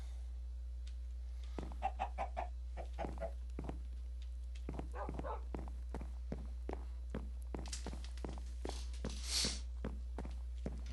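Minecraft chickens cluck in short, scattered bursts alongside a run of crisp, evenly spaced footsteps, with a soft constant hum underneath and no talking.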